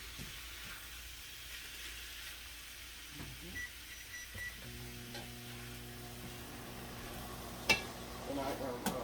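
Beef added in batches to a hot frying pan for keto beef and broccoli gives a faint, steady sizzle and hiss with a few light clatters and a short beep, quiet and nearby.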